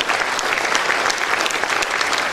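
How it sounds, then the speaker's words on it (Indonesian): Graduation audience at STIE Syariah Bengkalis applauding, a loud, dense, sustained wash of many hands clapping at once that fills the hall without pause. "Kita beri tepuk tangan untuk Syariah Bengkalis."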